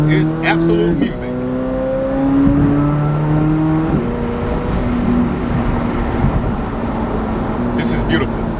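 A Chevrolet Corvette C8 Z06 with a 670 hp engine that revs to 8600 RPM roars loudly up close, its pitch climbing in stepped rises before settling into a strong sustained drone.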